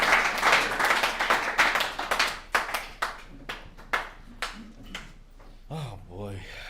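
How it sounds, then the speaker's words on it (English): An audience at a recovery services alumni meeting applauds to welcome a speaker. Sharp, loud clapping fades into scattered, sparser claps over several seconds, then a voice starts speaking. "So let's give a round warm of applause for Caesar."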